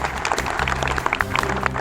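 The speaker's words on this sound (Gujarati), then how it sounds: "એના માટે ખરેખર તાળીઓ થઈ જાય." Crowd applause at a Rajput community protest rally in Bhuj, a dense steady patter of many hands clapping close by, with no talk over it.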